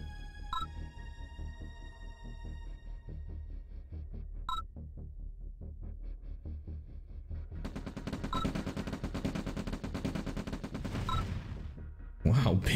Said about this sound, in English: Bain's rifles have really bad aim. Took them a long time to take out the barrels.